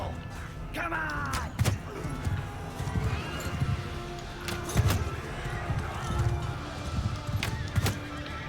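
A video game horse neighs and whinnies with hooves clip-clopping and thudding at a gallop, repeated calls rising over rhythmic hoofbeats, with other game sounds and occasional voices in the background.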